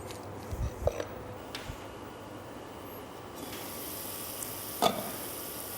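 Scallops sear in a hot pan. A broad, steady sizzle rises partway through, with a few soft knocks and clatters of the pan nearby.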